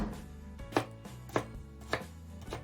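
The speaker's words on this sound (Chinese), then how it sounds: "将西红柿切成小块" A knife chops tomatoes into small pieces on a cutting board, five sharp, evenly spaced strokes ringing out close and clear with no voices.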